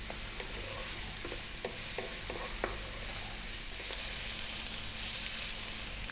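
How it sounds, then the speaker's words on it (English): Eggplant fries in a pan over medium to medium-high heat, giving a steady hiss with occasional light clicks and stirring taps, fairly close and even in level, with no voices. "I'm going to fry this around medium heat or just above a medium heat for about 3 or 4 minutes"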